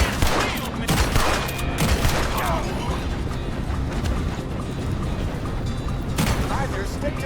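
Gunfire in a Red Dead Redemption 2 shootout, a dense fusillade of repeated shots with booming bursts across the scene, mixed under voices talking throughout.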